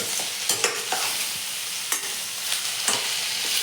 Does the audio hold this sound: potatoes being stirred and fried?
yes